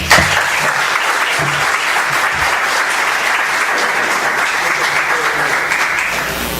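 Steady, loud audience applause greets a speaker introduced at a legal argumentation conference, a dense wash of many hands clapping close by that holds evenly throughout and eases slightly at the end.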